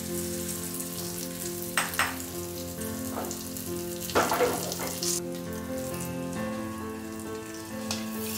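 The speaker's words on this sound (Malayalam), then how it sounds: "ഇനി നമുക്കിത് നമ്മുടെ മോരുകറിയിലേക്ക് ഒഴിച്ചു കൊടുക്കാം." Hot tempering poured into Kerala moru buttermilk curry, heard as a continuous crackling sizzle with a few louder spattering bursts, close by, over a steady background hum.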